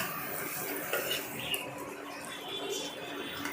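Spicy masala pasta stirred in a pan, quiet metallic scraping and light clinks of a spoon against cookware over a low background hiss, close but soft, with no clear voices.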